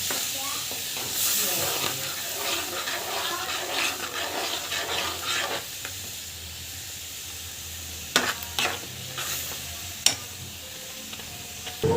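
Spicy paneer butter masala cooking in a pan, a steady sizzle and hiss with stirring scrapes and a few sharp clinks, heard close up without talk.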